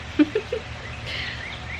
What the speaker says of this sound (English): The bird wants some.